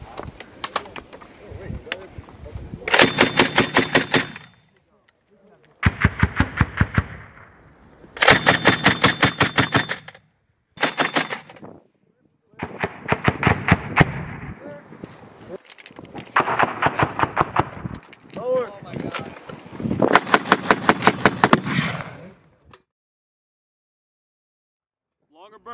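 Mk19 grenade launcher on a military range firing repeated rapid bursts of heavy thudding rounds, several long volleys separated by short pauses, loud and close.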